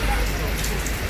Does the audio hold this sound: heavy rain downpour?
yes